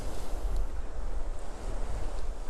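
Steady wind buffets the microphone along a beachfront promenade on the Golden Mile in Marbella, a continuous low rumble with faint surf-like wash and no voices.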